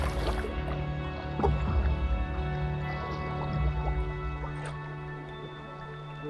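Someone paddles a canoe on windy, choppy water by an island. Soft, irregular splashes and drips sound close by over a steady low hum.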